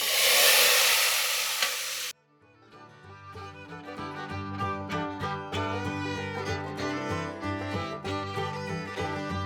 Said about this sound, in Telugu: వేడివేడి తాలింపు ఈ పప్పులో గుమగుమలాడించేద్దాం